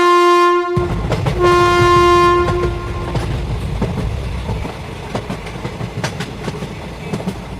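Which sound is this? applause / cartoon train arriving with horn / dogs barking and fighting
cartoon train arriving with horn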